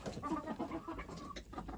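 Chickens on a small farm cluck and chatter steadily through the whole stretch, several birds close by at a winter evening feeding, with no talking.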